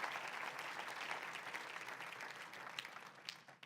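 Congregation applauding during a church service, a full sustained burst of many hands clapping that fades slightly toward the end, heard alone without speech.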